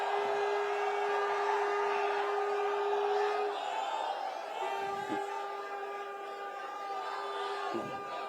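A political rally crowd cheers and roars to welcome Akhilesh Yadav, a sustained loud wash of shouting and whoops with a steady tone running through it.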